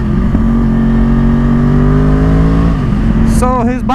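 A Yamaha R1 sportbike revs hard with a loud, steady engine note that climbs in pitch, then shifts through quick rising sweeps near the end, recorded up close from the bike.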